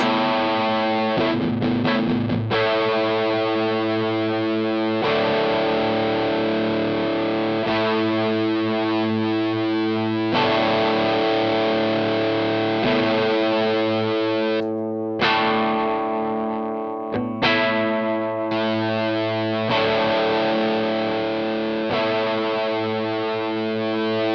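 Electric guitar through a Dr No More Gary heavy blues overdrive pedal with drive maxed, thick saturated distortion, sustained chords ringing loud and continuous with brief re-strikes.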